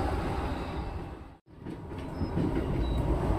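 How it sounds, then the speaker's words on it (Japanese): A Keihin-Tohoku Line rapid service train rumbles steadily from inside the carriage, with a brief dip in the roar partway through before the rolling noise and faint rail squeals resume. "This is a 京浜東北 line rapid service train for 大船。"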